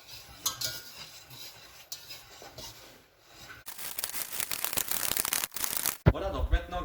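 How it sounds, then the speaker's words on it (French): A utensil stirs flour into melted butter in a saucepan for a roux. Soft scraping and clinking come first, then busier, louder scraping strokes against the pan that stop abruptly near the end. "je vais rajouter la farine dans le beurre et incorporer la farine au beurre"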